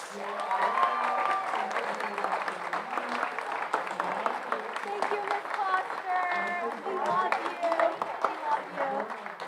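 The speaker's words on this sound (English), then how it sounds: "A round of applause." Sustained audience applause at a high school senior awards night, dense steady clapping from a large crowd with voices mixed in throughout.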